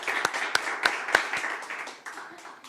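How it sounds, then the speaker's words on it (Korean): A church congregation applauds at a New Year's Eve service in Daegu: a few sharp, distinct claps stand out, then a thinner patter of clapping fades away. "우리 모든 영광의 박수를 하나님께 드리도록 하겠습니다"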